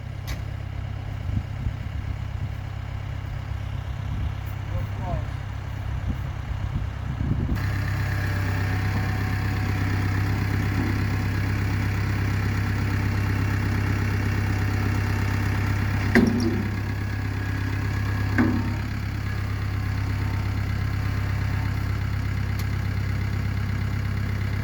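A tractor engine drones steadily for the whole stretch while moving a shipping container on a wheel kit, a loud low hum that grows a little fuller partway through, with a couple of faint knocks.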